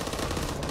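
Rapid gunfire from the Back 4 Blood video game striking a teammate, a dense continuous burst of shots lasting under a second with no pauses.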